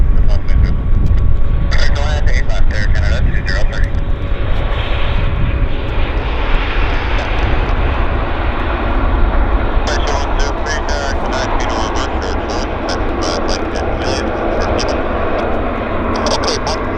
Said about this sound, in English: Watch our Huatulco aircraft taxi off stand.